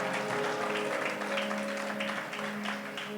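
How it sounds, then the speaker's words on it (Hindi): Congregation clapping during a Hindi church worship service, a steady dense patter of hands over a held musical tone, moderately loud and continuous throughout. "जोर से ताली बजाए"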